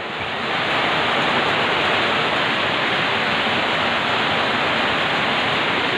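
Floodwater rushes through a flooded neighborhood in Tudela, Misamis Occidental, a dense, constant roar that swells up quickly and holds steady with no voices over it.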